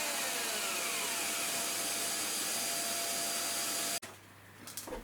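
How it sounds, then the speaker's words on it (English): Power sander running steadily on a boat hull transfer mold, a loud continuous whine that cuts off abruptly near the end, leaving quieter shop noise. "Some quick work with the saw and the sander."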